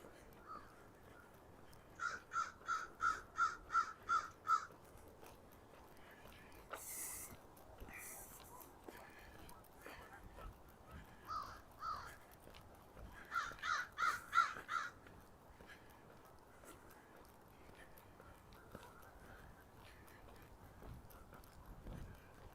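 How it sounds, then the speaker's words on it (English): Crows caw in two bursts of rapid, repeated calls, one series of about seven caws and a later cluster, carrying over a chilly lakeside park path with faint background noise and a few scattered other sounds. "And the crows having words."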